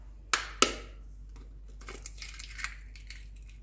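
Two eggs are cracked for a banana pancake batter in a home kitchen, giving two sharp, close cracks about a quarter second apart, then faint shell and bowl handling noises.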